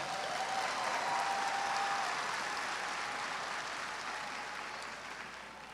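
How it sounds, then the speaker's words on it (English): Applause from a graduation crowd at the ASU fall commencement, a broad, distant roar of clapping across a large hall that stays steady and then gradually tapers off. "you can give that a round of applause for sure."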